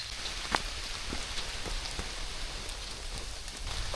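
Rain falls steadily on a forest, a dense even hiss of drops with occasional sharper nearby drips on leaves and surfaces, no voices.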